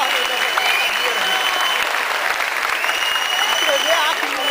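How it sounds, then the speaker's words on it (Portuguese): Loud, continuous audience applause at an anime convention theatre show, a dense crowd of clapping hands holding steady from start to end, with some voices and cheers mixed into the noise. "Palmas pra ele."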